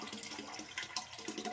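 Water is scooped and poured while being collected from a pond outdoors, a continuous splashing, gurgling rush with irregular sloshes, close by and without speech.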